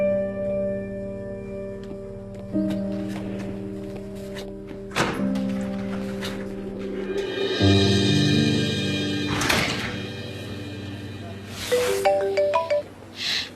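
A mobile phone ringtone plays as a melodic electronic tone pattern at moderate volume, interrupted by a few thumps and taps, set in a dubbed drama scene.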